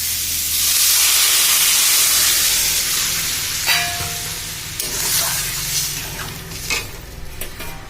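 Water poured into a hot kadai of cooking food sets off a loud burst of hissing, sizzling steam. The sizzle gradually dies down into quieter bubbling, broken by stirring and scraping sounds against the pan.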